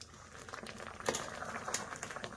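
Ripe mango pulp boils in a pot for a sweet-sour-spicy amsatto mango leather, a steady bubbling patter of soft pops with a few sharper bursts, close and fairly quiet, with no talking.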